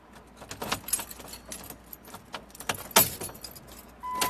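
Metal keys jangling and clinking close by in bursts of rattles, with faint road vehicle noise in the background and a brief beep near the end.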